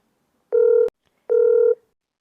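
A telephone call is being connected: two steady electronic tones sound close and clear, each lasting about a third of a second, separated by a short silent gap.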